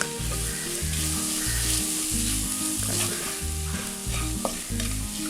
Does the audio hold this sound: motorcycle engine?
no